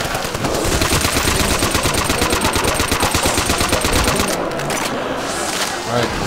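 Rapid automatic gunfire from a German rifle in Call of Duty: World at War, a loud, continuous rattle of closely spaced shots for several seconds before it abruptly cuts off.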